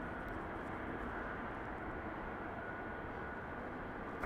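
An American Airlines jet departing Las Vegas Harry Reid International Airport roars as a broad, steady, distant wash of engine noise, with no voices.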